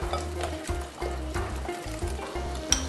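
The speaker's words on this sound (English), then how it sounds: "I'm going to mix my eggs." Eggs are whisked in a bowl for pancake batter, a steady run of fast, close strokes scraping and tapping the bowl with no voice over it.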